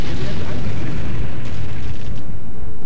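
Artillery explosions in the strategy game Empire Earth, loud dense booming and rumbling that fills the whole moment, with a voice talking over it.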